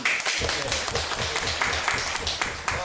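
Audience applause at a public broadcast recording, a continuous wash of clapping from a live crowd lasting a few seconds, fairly loud with faint voices underneath.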